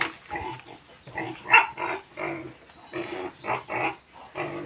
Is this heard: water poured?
no